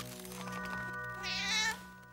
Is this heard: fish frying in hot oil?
no